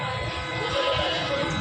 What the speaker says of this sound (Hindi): मेवाती तोतापरी में आए हुए बकरे।